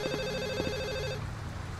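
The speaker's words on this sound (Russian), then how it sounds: "Так, ладно, телефон пока звонит." Repeated electronic telephone ringing in a first-person horror game, a steady bright trilling bell pattern sounding in bursts for over a second, then cutting off to leave low room hum.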